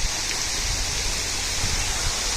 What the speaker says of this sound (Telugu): ఈ వాటర్ అంతా కూడా ఇప్పుడు ఫౌంటైన్ నుంచి వచ్చే ఫ్లో